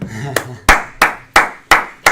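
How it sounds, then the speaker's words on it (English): An audience claps through a short stretch of a live event. The claps land as loud, sharp, regular beats close by, about six in a row, with a voice heard at the start. "give me a beautiful round of applause"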